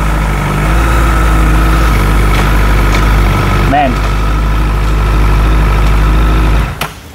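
A motorcycle engine fitted with a quickshifter idles steadily up close, a smooth, constant low rumble that runs unbroken until it cuts off near the end, with someone speaking briefly over it.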